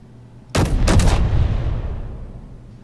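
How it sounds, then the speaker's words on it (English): An artillery turret fires a round in the Space Engineers video game, two heavy booming blasts in quick succession followed by a long fading rumble, loud and close with no talking. "And now it's reloading after I fire the second round."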